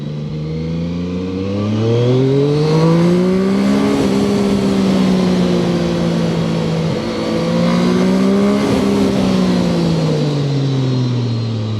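A ZONTES 703RR motorcycle engine pulls loud and close while riding twisty roads, its harmonic drone rising and falling through repeated throttle swells and gear changes over steady wind rush.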